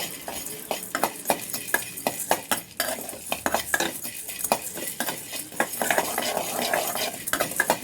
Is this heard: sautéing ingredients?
yes